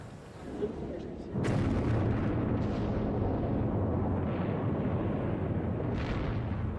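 Explosions from an Allied air raid on a German city during the Second World War: a sudden heavy blast followed by a sustained, loud rumbling roar that continues without a break.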